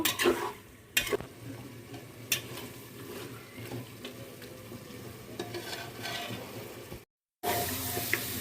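Beef head meat and chickpea dal being stir-fried in a pan, a steady low sizzle with scraping stirs and a few sharp clanks of the spoon, briefly cutting out near the end before resuming.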